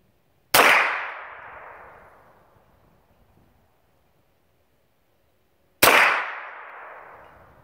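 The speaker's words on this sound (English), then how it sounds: "So I'm shooting the Ruger PC Charger, one-handed, at that plate." A Ruger PC Charger pistol is fired one-handed at a steel plate about 30 yards away outdoors, producing two loud sharp shots several seconds apart, each followed by a ringing clang and decaying echo.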